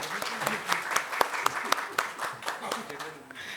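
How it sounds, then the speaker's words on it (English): An audience at a panel discussion on rural India claps for the panelists in a dense, sustained round of applause with a few sharper individual claps standing out. "join me in giving them a huge round of applause again"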